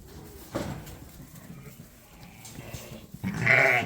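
A sheep, a ewe with her lambs, lets out a loud, close bleat near the end after a stretch of low barn rustling and shuffling, with one brief earlier cry.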